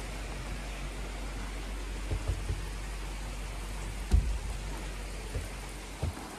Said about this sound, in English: And here's the rain again.